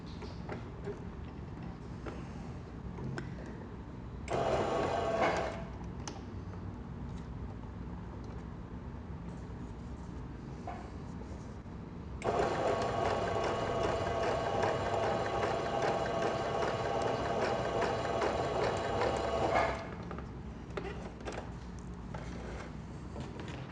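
Sewing machine stitching slowly over pins along a bias binding edge, running in a short burst and then a longer steady whir of about seven seconds, close but fairly quiet.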